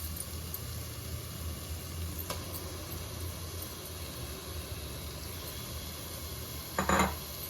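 Minced meat (keema) frying in oil in a pan for a biryani: a faint, steady hiss and sizzle runs throughout, with a brief clatter near the end as ingredients go in.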